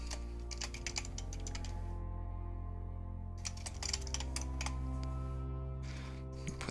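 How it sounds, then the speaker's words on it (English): Typing a message on a computer keyboard during a session of the space game Eve, a steady run of quiet clicking keystrokes with short pauses, over a constant low hum, no voices. "Just going to type this message."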